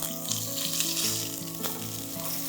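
Food sautés in a hot pan, sizzling steadily and loudly with a dense, constant crackle and no voices.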